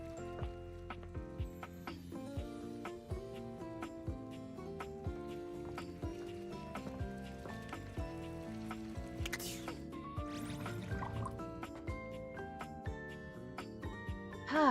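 Water left running in the video game Date Everything, a continuous trickle with clear, ringing droplet plinks scattered across a dense layered bed of sound, steady and near.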